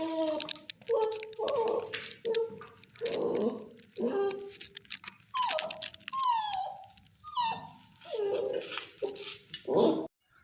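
An injured puppy that has lost two legs whimpers and whines repeatedly, a close series of high, wavering cries with short pauses between them.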